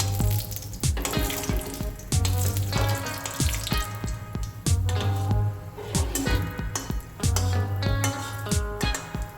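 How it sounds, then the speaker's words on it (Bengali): Dried red chilies, fenugreek and nigella seeds fry in hot oil, giving a busy crackling sizzle. It is mixed with rhythmic, repeated pulses of clattering kitchen sound and carries on steadily without talk. "মরিচগুলো ভাজা হয়ে এসেছে।"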